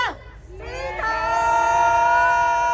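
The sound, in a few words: crowd cheering to farewell 2025 and welcome 2026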